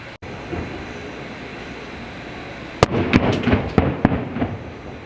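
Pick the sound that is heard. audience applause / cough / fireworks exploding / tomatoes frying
fireworks exploding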